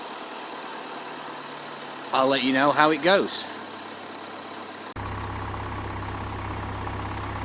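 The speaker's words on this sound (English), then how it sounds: "I was quite impressed with how it quickly started the engine." A new Land Rover Defender, started by remote start on a sub-zero morning, settles into a steady low engine idle that kicks in abruptly partway through, right after someone speaks briefly over a quieter background hum.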